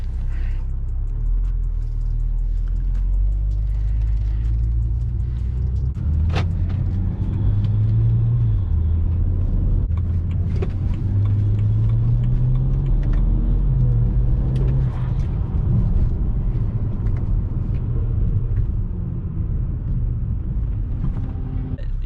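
A BMW 3 Series car on the move, its steady cabin rumble and road noise loud and continuous throughout, with engine tone rising and falling gently as it drives, and no voices.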